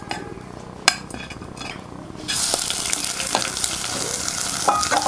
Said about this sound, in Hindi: ये जो हमने सेसमे सीड लिए हैं, तिल लिए हैं, इनको भून लेंगे।